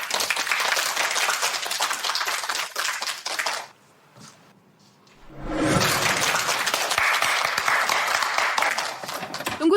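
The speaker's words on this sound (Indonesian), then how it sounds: "Mari kita berikan tepuk tangan untuknya." Loud, dense applause from a school ceremony audience honoring a student, a sustained roar of many hands that drops briefly to near silence with a few claps and a thump, then surges back just as strongly.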